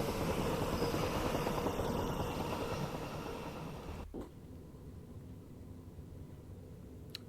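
A DB BR 187 electric locomotive hauling a fully loaded grain train in the Train Sim World 4 video game, a steady loud rolling rumble and hiss that abruptly thins to a quieter drone partway through.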